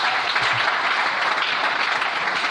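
A church congregation claps and acclaims the Lord, a dense, steady wash of applause that fills the room evenly from start to finish with no voices standing out.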